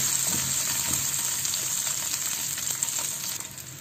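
Chopped garlic frying in oil in a pan gives a steady, close hiss and crackle, with faint stirring ticks, easing slightly at the end.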